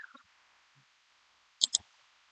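Faint, sparse clicks from a computer mouse, with two crisp clicks in quick succession standing out from a mostly quiet background.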